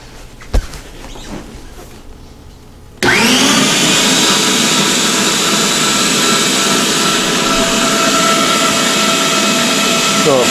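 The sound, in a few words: Home Geek electric meat grinder grinding pork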